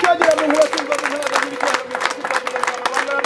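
Guests at a Rwandan wedding in Gisenyi, at the bride's welcome, give a dense, sustained burst of high trilling ululation over steady clapping and crowd noise. The sound stays loud and close from start to finish.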